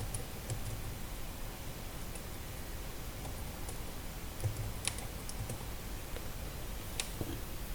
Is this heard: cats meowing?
no